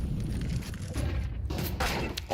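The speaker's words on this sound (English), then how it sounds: "That flashbang from Magisk." A flashbang grenade detonates in a professional Counter-Strike match, a dense continuous rumble of game noise with a bright burst partway through, loud and busy throughout with no clear voices.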